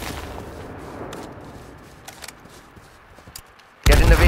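Gunfire in the video game H1Z1 Battle Royale: a steady run of faint, dense shots gives way to a sudden very loud close burst at the end, with no talk over it.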